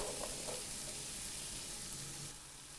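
Chopped celery sautéing in a soup pot with carrots, giving a constant, fairly faint hiss and sizzle with light stirring and no voices.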